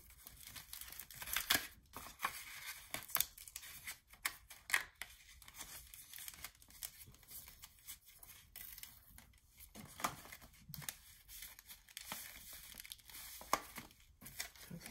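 Adhesive tape is pulled, torn and pressed onto a paper craft envelope stack, making soft, close crinkles and quick ripping bursts scattered irregularly through quiet pauses.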